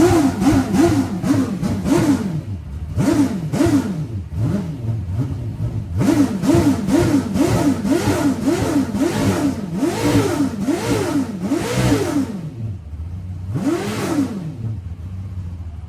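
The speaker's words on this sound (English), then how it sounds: "I don't want to change anything about this engine except maybe make more horsepower, because listen to this thing" A V8 engine in a GV drift NASCAR car revs repeatedly and loudly up close, rising and falling in quick bursts with short pauses, building to longer sweeping revs and then settling back toward idle.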